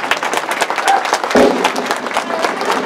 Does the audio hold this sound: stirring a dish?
no